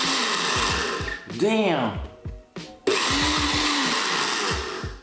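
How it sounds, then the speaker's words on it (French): A kitchen blender whirs loudly while mixing McDonald's food, its motor grinding steadily, then briefly stopping and restarting. Someone talks and exclaims over the motor in between. "je vais vous faire un zoom sur le mixeur pendant que je l'active"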